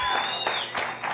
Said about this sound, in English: Brazil wins for the loudest crowd ever.